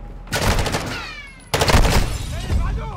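Gunfire in the Call of Duty: Modern Warfare II campaign: two dense, close bursts of rapid automatic shots, a pause and then a second heavier volley, with voices shouting over the fire.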